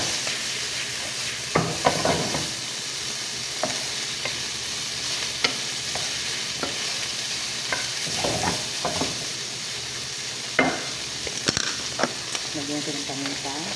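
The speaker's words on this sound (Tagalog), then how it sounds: "Gisa natin siya ng mga 3 minuto natin igisa." Callos ingredients sautéing in a pan, a continuous close sizzle broken by repeated clacks and scrapes of a spoon stirring.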